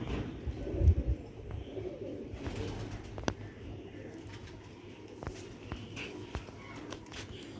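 Aali aala pigeons coo softly in a loft, low repeated calls over a murmur of background noise with a few sharp knocks.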